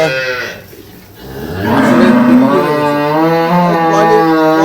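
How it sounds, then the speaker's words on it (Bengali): A dairy cow moos long and loud during morning milking, one drawn-out low call close by after a short quieter pause, with a heifer calf nearby. "এটা হচ্ছে বকনা বাছুর আর এটা হচ্ছে গাভী গরু"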